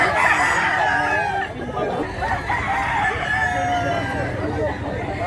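Roosters crow repeatedly at a busy chicken market in Mantalungon, Cebu, several drawn-out calls overlapping from nearby birds amid clucking, crowd murmur and voices talking in the background.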